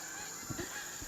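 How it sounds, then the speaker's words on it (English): Geese in Finland honk a few times at a distance, brief nasal calls rising over a steady outdoor background hiss. "that's the beautiful geese here in Finland"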